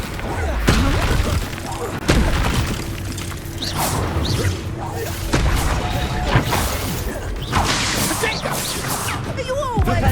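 Confringo fire spell in the Hogwarts Legacy video game, heard as repeated booming blasts with whooshes and crashes amid ongoing combat, loud and punchy.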